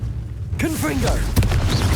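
Confringo fire spell cast in Hogwarts Legacy, a sudden low booming blast that rolls under game effects while a voice speaks over it.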